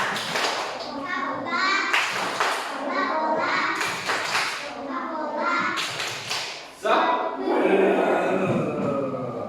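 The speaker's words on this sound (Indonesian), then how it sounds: "Tepuk Coca-Cola." Children in a classroom perform a rhythmic clapping chant, claps and thumps falling in a patterned beat as they chant together loudly and close by.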